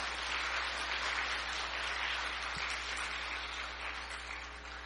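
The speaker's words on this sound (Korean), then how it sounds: "여러분 다시 한번 공연팀에게 큰 박수 부탁드리겠습니다" Applause from an audience at the Smart World Peace Forum 2013 for a performance team, heard as a steady wash of many hands clapping over a low hum, slowly fading.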